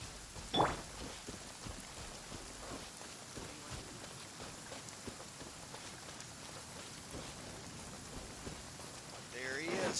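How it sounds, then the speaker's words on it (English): Steady rainfall in the video game Genshin Impact, an even, continuous hiss of falling drops that fills the whole stretch at a moderate, fairly soft level. "I hope it stays raining."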